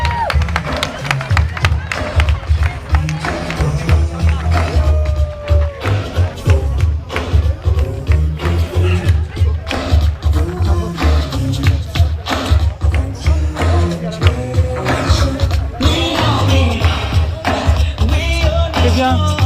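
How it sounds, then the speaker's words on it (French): Spectators clapping and cheering for runners at the Diagonale des Fous ultra-trail on Réunion, a dense, steady patter of applause with thumps and crowd noise throughout, mixed with nearby voices. "c'est parti les applaudissements pour nos coureurs"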